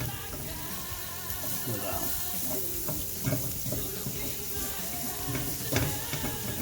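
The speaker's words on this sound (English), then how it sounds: "letting these finish sauteing here. Listen to that sizzle, folks." Onions, carrots and bacon sizzle and crackle steadily in a hot pan, a close, dense frying hiss with occasional pops and stirring.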